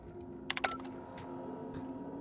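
Keyboard typing in The Outer Worlds video game: a short, quick run of faint clicking keystrokes that fades out over a steady low electronic hum.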